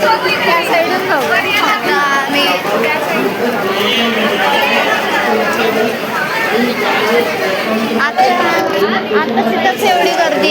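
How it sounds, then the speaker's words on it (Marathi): Dense crowd hubbub at Dadar in Mumbai, many overlapping voices chattering at once in a steady, loud, close babble with no pauses. "आता तिथंच एवढी गर्दी आहे."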